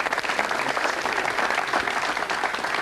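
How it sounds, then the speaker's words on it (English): Studio audience applause on a live late-night television show, a dense, steady wash of clapping that fills the whole stretch at full strength with no voices over it. "I think he deserves a round of applause"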